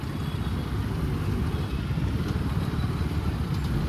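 A KTM Duke 250 motorcycle engine idles nearby, a steady low rumbling thrum holding an even level from start to finish.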